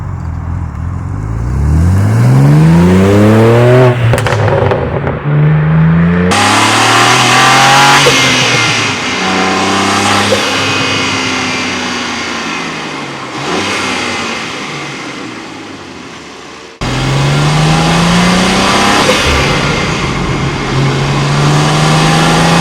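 A BMW G87 M2 with an AWE S-Flow intake, heard from inside while driving on the road: loud engine and intake roar rising through the revs in repeated pulls, with gear changes and brief lifts between them.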